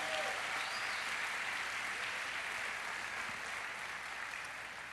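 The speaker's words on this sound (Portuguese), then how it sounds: "Dê uma forte salva de palmas." A church congregation gives sustained, strong applause, a dense even wash of clapping from a large crowd that fades slightly toward the end.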